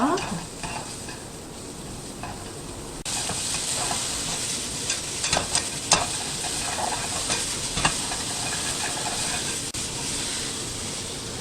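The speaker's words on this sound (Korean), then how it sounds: "기름 두르고요. 약불이나 중간불 정도로 이렇게 볶아주시면 돼요." Beef fries in oil in a pan over low to medium heat, a steady close sizzle and hiss with occasional scraping stirs and spatters, no voices.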